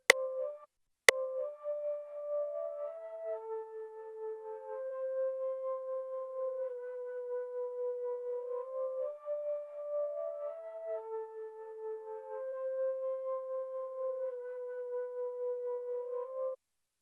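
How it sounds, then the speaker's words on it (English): Sampled flute pattern loops a soft, smooth melody of long held notes, quiet and steady throughout, starting with a brief click and carrying no voices. "I then added this flute pattern, so I'll show you the finished flute"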